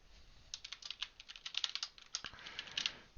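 Quick bursts of computer keyboard typing enter a file name, with rapid close clicky keystrokes in uneven runs, alone in a quiet room.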